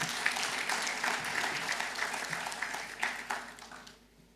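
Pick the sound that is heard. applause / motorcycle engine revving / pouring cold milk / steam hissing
applause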